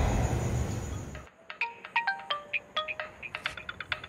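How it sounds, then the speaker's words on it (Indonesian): A phone ringtone plays a bright, chiming melody of short repeated notes, heard clearly after a burst of louder noise cuts off. "Ini siapa lagi yang telepon?"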